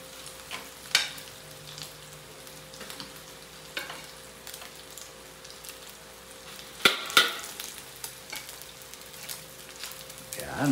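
Cooked rice stir-fried in a pan for garlic fried rice, a soft continuous sizzle broken by intermittent scraping and tossing knocks, louder in a brief burst midway.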